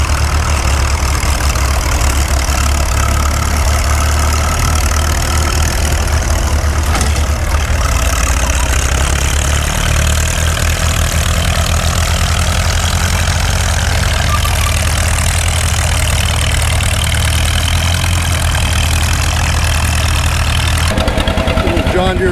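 A classic John Deere BR tractor engine runs in a field: a steady, loud, low chugging drone close by that carries on for the whole stretch, with a voice talking over it near the end.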